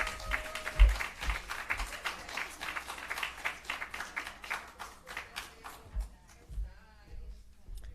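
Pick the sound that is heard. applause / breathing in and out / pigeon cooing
applause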